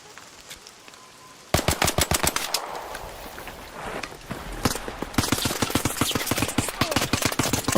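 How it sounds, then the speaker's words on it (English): Rapid automatic gunfire in the video game ARC Raiders rattles in loud, sharp bursts after a quiet opening, pausing briefly, then resuming as a dense, sustained stream of shots. "He's getting shot at by somebody else."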